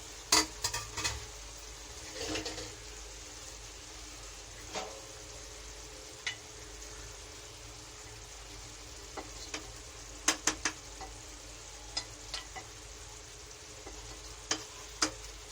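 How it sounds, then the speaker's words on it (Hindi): Meat frying with yogurt and browned onions for karela gosht, a soft, steady sizzle under scattered light clinks and taps of a spoon against the pot. "अब हम इसको भूनेंगे दही के साथ"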